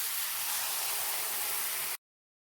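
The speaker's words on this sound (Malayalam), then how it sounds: "നന്നായിട്ട് ചൂടായിട്ടുള്ള ഈ അപ്പച്ചട്ടിയിലേക്ക് നമുക്ക് മാവൊഴിച്ച് കൊടുക്കാം." Palappam batter, a traditional Kerala rice batter, is poured into a well-heated appam pan and gives a steady, close hissing sizzle for about two seconds before cutting off abruptly into silence.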